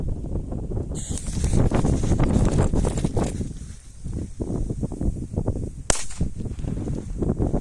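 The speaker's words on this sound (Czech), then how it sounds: "A prvá petarda dnešného dňa je Pirátek originál." A Pirátek original firecracker goes off in the open air, giving one sharp loud bang that is followed by a long rumbling echo and wind noise, then a second crisp crack a few seconds later.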